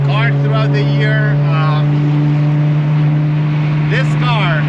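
A Porsche 996 GT3 engine drones steadily and loudly from inside the car, a constant low hum running throughout, with a person talking over it in bursts.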